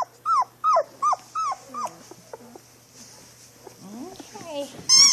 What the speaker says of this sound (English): My little bunch of little fat puppy dogs.